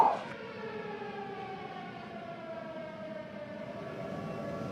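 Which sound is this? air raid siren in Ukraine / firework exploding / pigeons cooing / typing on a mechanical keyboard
air raid siren in Ukraine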